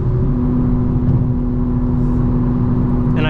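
A 2025 BMW M4 Competition's engine drones at a steady low pitch during a night drive, with a constant hum and road noise and no revving surges.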